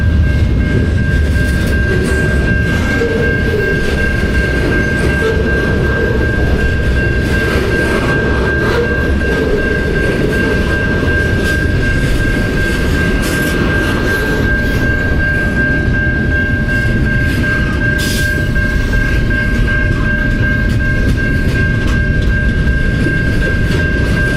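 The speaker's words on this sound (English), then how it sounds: "How long is this train?" A long video game train rumbles steadily past for the whole stretch, a continuous loud rolling drone with a faint steady tone above it, no talking.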